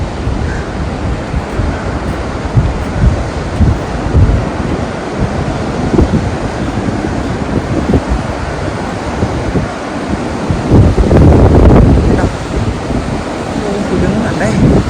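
Strong wind sweeps across a long suspension bridge on the Everest Base Camp trek, a loud, continuous roar buffeting close to the microphone, swelling harder near the end, with voices faintly beneath.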